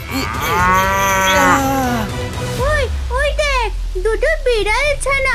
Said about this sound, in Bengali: ওই দেখ, গরুটা ডাকছে